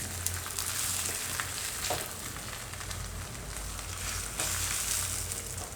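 A bajra flour paratha roasting in oil on a hot tawa over a low gas flame, giving a steady close sizzle and frying crackle that carries on unbroken with no voices.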